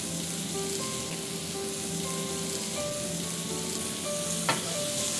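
Baby corn fries in butter in a pan, giving a steady, close sizzle and crackle with a brief clatter of a utensil near the end and no voices.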